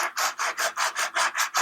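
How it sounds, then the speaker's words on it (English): Wood rubbed back and forth on a flat luthier's sanding plate, a steady rhythmic rasp of about eight close, fairly loud strokes in quick succession, with no voices. "You can also sand the bottom flat"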